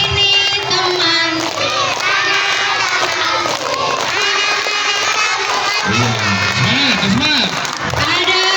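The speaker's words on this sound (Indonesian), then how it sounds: "Semuanya sambil tepuk tangan bisa? Sambil tepuk tangan semuanya yuk." Schoolchildren at an elementary school anti-bullying event clap along as they sing a song together, a loud crowd of young voices with rhythmic hand claps and shouting throughout.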